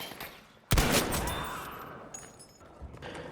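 A single sharp sniper rifle shot from a Kar98k in Battlefield V cracks loudly and echoes away, followed by faint distant game noises.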